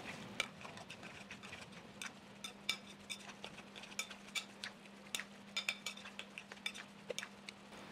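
Tuna cake mixture being mixed with beaten egg in a bowl, giving soft repeated clinks and ticks of a utensil against the dish in a quiet kitchen, with no talking.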